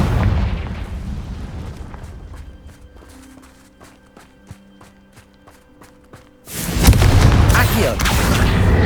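A Confringo spell blast in Hogwarts Legacy: after a stretch of quieter clattering and small impacts, a loud, dense explosion erupts and roars on to the end.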